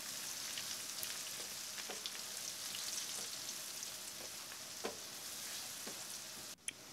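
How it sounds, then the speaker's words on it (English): Spice powders fry in a pan for a fish roe curry with a soft, even sizzle and scattered light scraping ticks from stirring, plus a sharp knock near the end. "Then add all the spice powders into the pan, mix them in and fry for 30 seconds."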